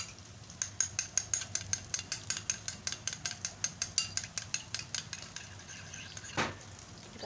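Raw eggs are beaten with a utensil against a bowl, a fast steady run of about two dozen sharp clinking taps, close and clear, ending with a brief scrape and no talk.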